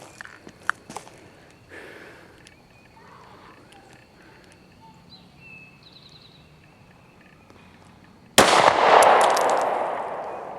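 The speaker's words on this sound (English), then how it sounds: "But let's try to shoot that spam can on the right." A single loud 9mm Glock 26 pistol shot fired outdoors at a spam can bursts out near the end and rings off into a long decaying tail, following several seconds of quiet with faint scattered knocks and movement.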